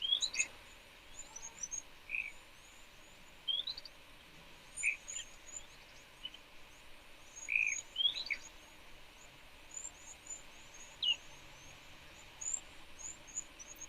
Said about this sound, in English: There's also a lot of big birds coming in.